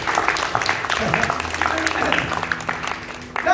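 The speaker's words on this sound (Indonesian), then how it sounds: "Tepuk tangan dulu." Congregation applause at a church revival service in a tabernacle, a steady wash of clapping filling the room with some voices mixed in, fairly loud throughout.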